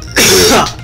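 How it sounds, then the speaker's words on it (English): A single sharp cough bursts out close to the microphone during Minecraft gameplay commentary, loud and brief, then quickly fades. "Sorry about that cough."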